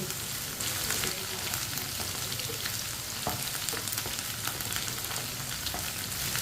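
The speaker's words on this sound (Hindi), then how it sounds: "भिंडी को मैंने 3-4 मिनट के लिए फ्राई कर लिया है।" Okra frying in a pan for a yogurt okra dish, lightly browned after a few minutes: a steady, close, dense sizzle that runs evenly throughout with no break.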